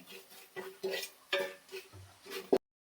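Spoon or spatula stirring and mixing food in a pan, with a few distinct scraping strokes and light clinks of metal against the pan, close and moderately quiet.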